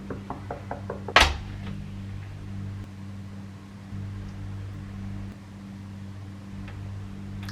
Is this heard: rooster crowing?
no